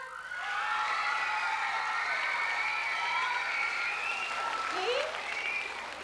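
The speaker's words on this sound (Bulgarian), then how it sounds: "аплодисменти чаровната Франциска" Audience applause at a youth beauty pageant, a continuous wash of clapping under a loud music bed with sliding tones, sustained at an even level throughout.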